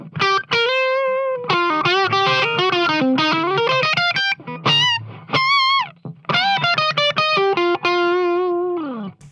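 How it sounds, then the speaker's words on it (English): Electric guitar played through a kinky boost effect on a Line 6 Helix, loud and distorted, with phrases of sustained notes and quick bends separated by brief pauses. "So here's the kinky boost."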